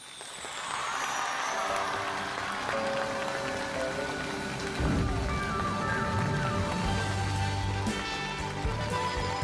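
A television studio audience gives a dense, sustained round of applause to welcome a singer on a Chinese poetry-and-music show, with tonal music sounding through the clapping.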